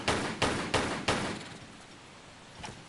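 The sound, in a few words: gunshots from a video game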